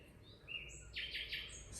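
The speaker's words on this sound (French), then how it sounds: "C'est le rossignol, seul oiseau à chanter la nuit." A nightingale singing at night: a run of clear high whistles followed by three bright repeated trill phrases, fairly close over a low steady background hum.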